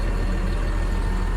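A Caterpillar D6T dozer engine, freshly started, idles with a steady, dense low rumble and constant hum, close and unbroken, with no voices.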